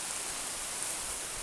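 A river running high and busy with water after heavy rain, a steady broadband rush of flow, fairly faint and unbroken, with no voices.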